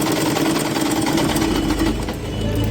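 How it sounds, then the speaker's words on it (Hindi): A sewing machine runs steadily and loud, stitching a straight seam on underwear fabric, its motor whirring continuously with a fine rapid needle rhythm throughout. "हमने इसे सीधी सीधी सिलाई कर डालेंगे"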